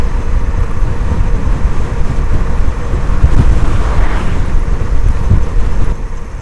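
Strong wind buffets a cyclist riding a gravel bike on a mountain road climb, a loud, continuous roaring rush of air across the microphone with gusty swells.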